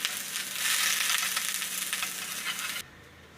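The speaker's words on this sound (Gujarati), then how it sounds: "આ રીતની આપણે શેકવાની છે માખણમાં, એકદમ સરસ કડક થઈ જાય એ રીતે." Garlic bread toasts in butter in a pan with a loud, steady sizzle and crackle that cuts off abruptly near the end.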